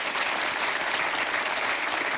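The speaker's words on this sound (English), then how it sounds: "Give him a big round of applause" Studio audience applause on a TV quiz show, a loud, dense wash of clapping from many hands holding steady throughout.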